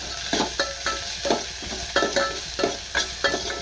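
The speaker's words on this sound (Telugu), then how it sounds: "కొత్తిమీర పచ్చిమిరపకాయ కూడా వేసేస్తున్నాను ఇవి కూడా బాగా ఫ్రై చేస్తున్నాను" Coriander leaves and green chillies fry and get stirred in a pan for a rice-flour breakfast dish: repeated rhythmic scraping strokes over a steady close sizzle, with no voices.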